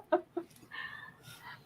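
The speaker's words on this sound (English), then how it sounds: "rooster." Rooster heard up close: two short clucks, then a longer crow that rises and breaks off, with a shorter crow-like call following and no talk over it.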